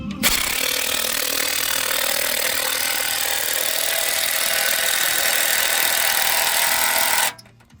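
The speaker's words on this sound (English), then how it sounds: "let me put this on the impact gun" A pneumatic impact gun runs in one continuous, loud burst, driving a nut onto a Western Ultra Mount 69981 snowplow mount, then cuts off abruptly near the end.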